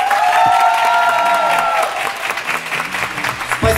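Audience applause fills an open-air pro-am dance event in Kyiv: a dense, steady clapping crowd close by that eases slightly partway through, then swells again at the end.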